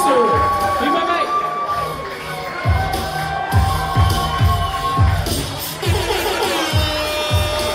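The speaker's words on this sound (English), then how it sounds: "your applause one more time for the Ring Girls of the Evening" Crowd cheering and whooping at a fight league event, loud and close, with bursts of shouting and thumping noise rising and falling over several seconds amid general commotion.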